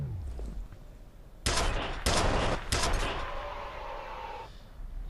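Three loud bursts of assault rifle fire in the shooter F.E.A.R., each lasting about half a second with a brief gap between, over a low rumbling game ambience that lingers afterward.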